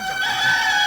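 A rooster crows once, close and loud, a short harmonic call standing alone without any talk.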